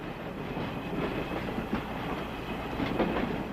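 A train rolls steadily along the rails with a continuous rumble and a faint clickety-clack of the wheels. The sound is loud and sustained throughout, set in a western with no voices over it.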